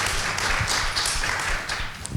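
Applause from an audience at a roundtable salon, a steady broadband patter of clapping filling the whole stretch with no talk over it.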